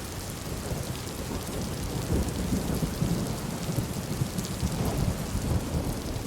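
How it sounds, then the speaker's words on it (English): Thunderstorm with steady heavy rain pattering on surfaces and low rumbling thunder rolling underneath, dense and continuous throughout with no voices. "The thunder rolled, lightning flashed, and the storm sent the blues and greens hurrying for shelter."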